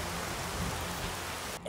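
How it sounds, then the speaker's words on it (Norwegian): Hail falls outdoors during a sudden storm in a forest near Drøbak, a steady, fairly quiet hiss of pellets with a brief soft knock near the end and no speech. "Det hagler."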